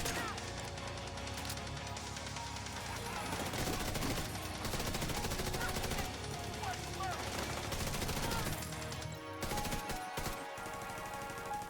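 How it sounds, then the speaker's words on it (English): Automatic gunfire and explosions from the video game The Division 2 run loud and dense throughout, with bursts of shots and impacts layered over continuous game noise. "Shoot him in the legs because I can."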